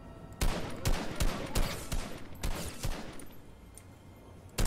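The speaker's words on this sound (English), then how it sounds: "Who's shooting?" Gunfire in Fortnite: several sharp shots ring out at irregular intervals, some in quick pairs, over a low game-ambience bed, moderately loud and fairly close.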